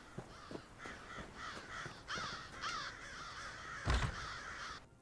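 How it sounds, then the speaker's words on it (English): Crows cawing in the game Elder Scrolls Online, Western Skyrim region: a series of harsh, moderately near caws in quick succession, one louder burst near the end, with no speech. "There's a lot of bird sounds out there."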